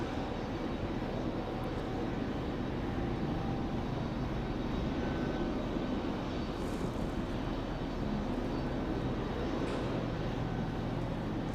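An Aeromexico jet at Raleigh-Durham airport on a foggy night gives off a steady, broad engine rumble that holds at an even level throughout, fairly close and continuous.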